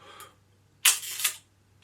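A Voigtlander Bessa camera shutter fires at a fifth of a second, close and alone in a quiet room: a faint click, then a sharp open snap followed a moment later by a second closing snap.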